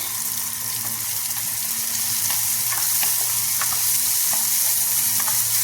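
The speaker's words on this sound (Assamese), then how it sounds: "হেতাখনে লৰাই দিছোঁ আৰু এতিয়া এয়া নহৰু কেইটাও দি দিছোঁ ইয়াতে" Garlic fries in a pan while a spatula stirs it alongside tomatoes for a mushroom gravy, a loud steady sizzle close by with light repeated scraping taps of the spatula, no voices.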